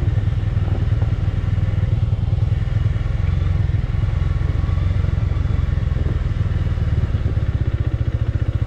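A sport motorcycle engine runs while riding, a loud, steady rumble with rapid pulsing and some mechanical clatter throughout, close and continuous, with no talking.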